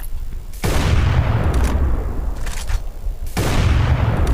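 Loud gunfire bursts and booms from the FPS shooting game War After, heavy blasts with dense rumbling tails, coming in a few repeated volleys close in the mix.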